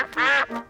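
Cartoon ducks on a pond in Peppa Pig quack: one loud, drawn-out nasal quack, then a shorter, softer one right after, close and clear with no voices over them.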